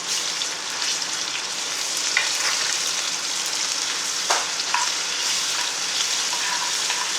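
Onion and chilli frying in a pan of hot oil for soya chunk curry, a steady close crackling sizzle with occasional sharper pops and stirring scrapes throughout.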